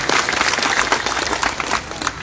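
A crowd at a political speech by a Bihar MLA breaks into dense, continuous applause to welcome a guest. The clapping is loud and sustained throughout.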